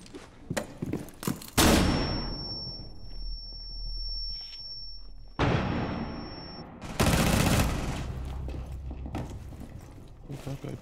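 Gunfire from Blackbeard in Rainbow Six Siege, loud bursts of shots that come in clusters between quieter stretches, with a high steady tone ringing through the middle of the clip.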